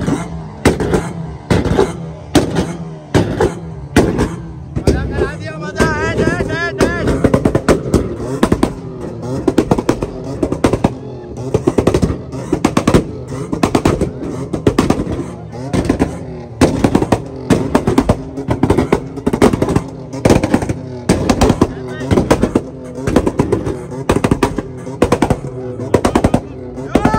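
Cars at the Adazi Auto Show in Karachi 2023 shoot exhaust flames, with loud rapid backfire pops crackling like firecrackers in dense bursts, continuous and close, over crowd noise.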